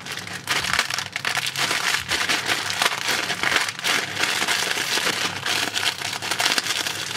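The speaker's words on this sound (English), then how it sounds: "let's break up the noodles." Dry block of Maggi spicy curry 2-minute instant noodles being broken apart by hand, a dense run of loud crunching, crackling snaps and crinkling bursts close up, with no talking.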